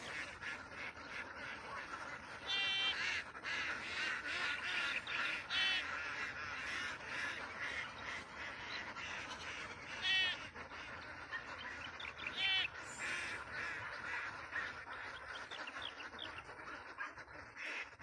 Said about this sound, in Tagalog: Hanggang doon pa po ang mga itik.